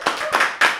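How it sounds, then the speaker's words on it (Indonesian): Audience claps at a live comedy and music talk show taping, a short burst of applause with a few distinct clap surges over a steady wash, fairly close and loud. "boleh minta tepuk tangan sekali lagi?"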